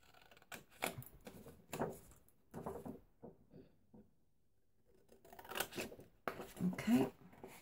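Scissors cut out paper for a sticky-note holder, giving a run of quiet snipping and rustling in short uneven bursts with a brief pause midway.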